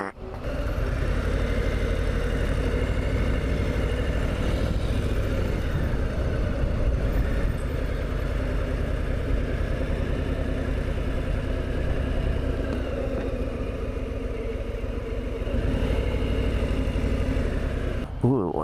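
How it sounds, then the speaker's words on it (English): Air-cooled engine of a Harley-Davidson Street Bob motorcycle idling with a steady low rumble, loud and constant throughout, with people talking over it. "You're right over the engine on that one."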